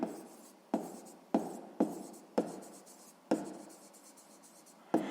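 Handwriting on paper while noting down a family's total income in a sixth-grade maths exercise: several crisp, close pen strokes in bursts, each followed by a soft scratching tail, with a longer stretch of writing toward the end.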